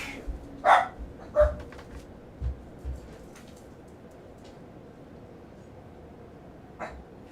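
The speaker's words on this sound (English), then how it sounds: "a fly can land on the kitchen counter, and then the dogs just go fucking ballistic" Several dogs bark indoors in a house in short, separate bursts, a few loud yaps early and one more later, with quiet room tone in between.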